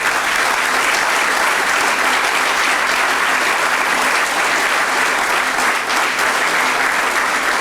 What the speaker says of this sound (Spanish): para ustedes un fuerte aplauso